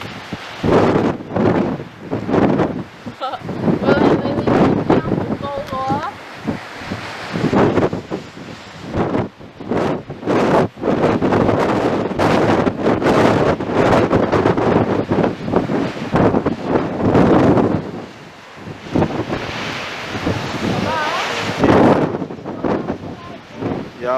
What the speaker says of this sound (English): Very windy, very strong wind.